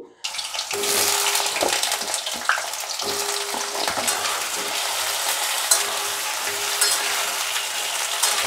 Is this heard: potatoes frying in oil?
yes